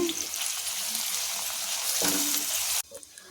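Onions, green chilies and curry leaves sizzle steadily in hot oil with cumin in a pan, a dense close frying hiss that runs continuously before cutting off abruptly near the end, with faint stirring clatter.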